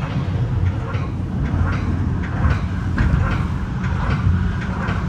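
A westbound Metra commuter train on the BNSF Line near Chicago's Western Avenue rumbles past with a steady, loud, low roar, and faint rhythmic clacks of wheels rolling over rail joints rise repeatedly through the noise.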